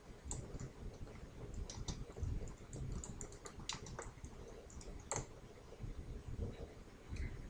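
Typing on a computer keyboard, a steady run of light, close key clicks with irregular rhythm and a few sharper taps, alone without talk.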